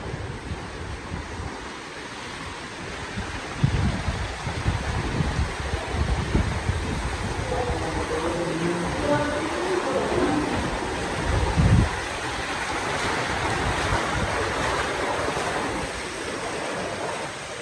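Beach surf near The Empire Hotel in Brunei: a steady wash of breaking waves mixed with gusty wind buffeting the microphone, with a few louder surges and no voices.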